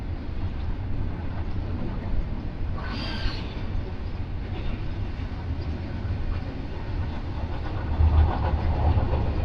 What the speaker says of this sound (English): See the size of these trains.